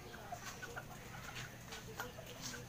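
A home-bred SG line Serama chicken clucks softly several times, faint and a little distant over a steady background hum, with no talking.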